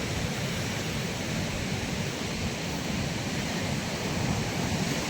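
Sea waves rolling onto the shore at Benaulim beach in Goa, a continuous broad wash of surf close by with steady wind noise over the microphone and no voices.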